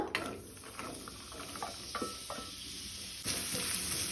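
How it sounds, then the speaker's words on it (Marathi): Onion dropped into hot oil in a pan sizzles steadily with soft stirring scrapes and a louder burst of frying near the end, close and alone with no talk. "तेल तापले तशें तातूंत हांव कानो घालता"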